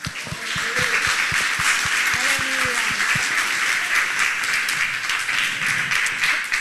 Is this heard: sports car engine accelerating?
no